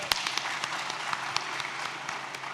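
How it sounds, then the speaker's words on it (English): A small crowd applauds with steady, moderately distant clapping for a couple of seconds. "we should put a round of applause for them"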